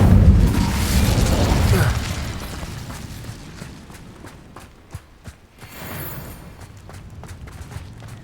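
The Incendio fire spell is cast in the video game Hogwarts Legacy: a loud whooshing, booming burst that swells and fades over about two seconds, followed by quieter scattered clicks and footsteps.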